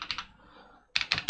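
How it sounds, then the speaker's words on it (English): Keys clatter on an Atari 600XL/800XL computer keyboard being tested after repair: three quick clicks, a brief pause, then three more crisp keystrokes, close up with no voices. "let's see if this keyboard works."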